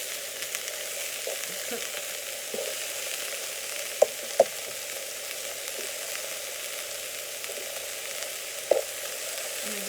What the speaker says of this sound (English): since it's beef, you just keep flipping them on each side